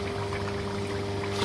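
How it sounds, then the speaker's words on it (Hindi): Water pours steadily into a cooking pot of matar pulao with chillies and tamarind, a continuous faint rushing over a low electrical hum, with no talk. "अभी हम इसमें डालेंगे पानी।"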